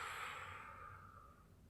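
A slow, steady exhale during a guided yoga breathing exercise, a soft continuous breathy hiss that fades gradually over under two seconds, close and quiet with no talking.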